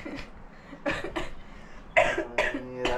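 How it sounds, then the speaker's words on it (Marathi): A person coughs at night in a few harsh, close bursts with short pauses between them, then a quick cluster of coughs near the end. "रातची मात खोकली म्हाका भरपूर येता"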